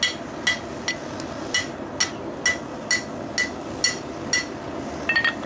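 Hot metal is hammered at a home forge setup, a steady series of about a dozen ringing blows at an even, unhurried rhythm, with a quicker flurry at the end.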